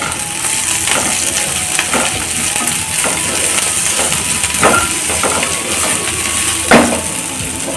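Crushed garlic and curry leaves frying in oil for a dahi tadka, with a steady close sizzle and occasional sharp clinks from stirring throughout.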